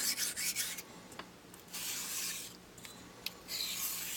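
A Bartmann straight razor blade being honed on a stone with chisel strokes, a soft close scraping rub in repeated back-and-forth strokes with short pauses between.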